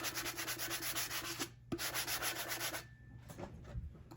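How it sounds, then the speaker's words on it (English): Hand sanding a glitter tumbler to strip off its sealer coat: steady rapid back-and-forth rasping strokes, close and loud, with a brief pause midway and a quieter, scratchier stretch near the end. "I'm just gonna go ahead and I'm just gonna sand it."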